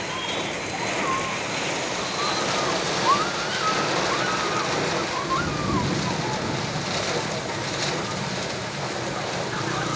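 Steady, heavy rainfall in a storm with strong wind hisses continuously with a dense wash of noise, constant and loud for the whole stretch, with faint voices in the background.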